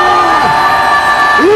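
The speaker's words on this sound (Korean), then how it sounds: "7초 함성 발사!" A rally crowd at a mass protest gathering shouts and cheers, a loud, sustained wall of voices with a few rising whoops standing out near the end.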